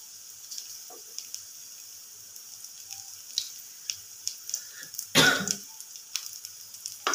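Raw potato snacks fry on low gas in a pan with a soft, close sizzle broken by scattered light clicks and taps, plus one brief louder burst like a cough near the middle.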